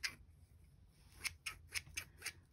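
Small scissors from a Temu haul snipping through a band-aid, giving a quiet run of six or seven crisp, evenly spaced cutting clicks close up, with no talk.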